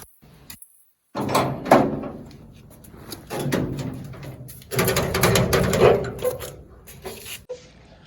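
An indoor home door is pulled shut with a few clunking, rattling knocks and a latch sound, plus scattered handling noises around it, fairly close and with no talking.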